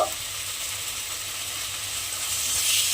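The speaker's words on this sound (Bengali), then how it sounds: "অল্প একটু জল দিয়ে আমাকে আবারও মশলাটা খুব ভালোভাবে কষিয়ে নিতে হবে" Steady broadband sizzle from spiced masala with turmeric and chilli powder frying in a pan after a little water is added for mochar dal, continuous and close with no speech.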